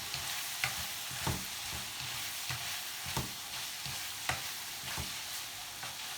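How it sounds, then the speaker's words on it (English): Chillies stirred and frying in a hot pan, a steady sizzle with regular scraping strokes of the utensil recurring about once a second, close and alone. "I'm going to stick my chilies in. Give these a bit of a mix up."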